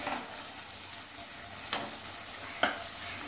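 Pointed gourd (parwal) pieces tipped into a pan of simmering water for a vegetarian malaikari, with soft background sizzle broken by two sharp clattering thuds near the end; no one speaks.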